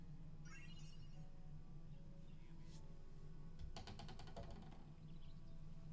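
A mobile phone ringing with an incoming call from an unsaved number, a faint repeating electronic ring pattern under low room noise and scattered mechanical clicks.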